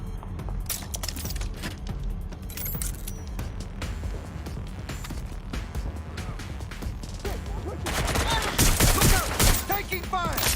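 Gunfire in Watch Dogs: Legion, with scattered sharp shots and impacts over a busy game soundscape, then a louder burst of rapid fire near the end.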